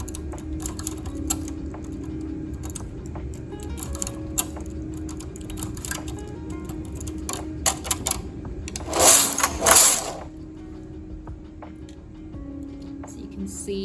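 Knitting machine carriage running across the needle bed over a couple of rows during partial knitting, giving a steady mechanical clatter with a loud rattling burst near the end, while a soft voice speaks quietly beneath it.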